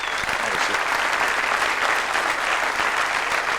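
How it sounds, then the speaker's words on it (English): Steady, full applause from a comedy club audience at a live stand-up show, dense and continuous without a break. "give her a round of applause"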